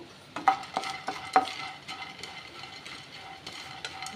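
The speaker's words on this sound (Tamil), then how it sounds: "பொறிகளே லைட்டாக வறுத்தா போதும்" Puffed rice is lightly roasted in a pan, stirred with a spatula that scrapes and taps the metal in irregular strokes, a few sharper knocks among softer rustling, close and quiet, no voices.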